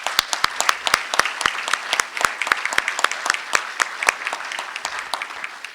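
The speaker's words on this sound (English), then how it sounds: "Let's give them an applause." Audience applause at an education results event, a room of people clapping in a lively, fairly close patter of sharp individual claps with distinct hand strikes standing out.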